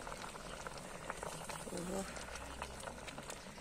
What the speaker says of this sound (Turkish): Kaynıyor.